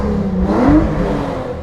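A Hyundai Genesis rental drift car's engine revs up in a single rising surge, loud and close, with a whirring tone and no talking.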